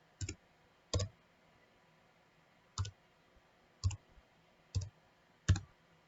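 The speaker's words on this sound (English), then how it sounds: "Now we click on a label." A computer mouse clicks six times at irregular intervals, each a crisp close double click, quiet and isolated against a faint room hum.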